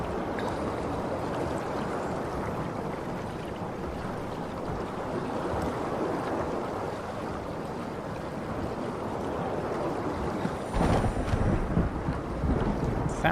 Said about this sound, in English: Sounds like a storm underwater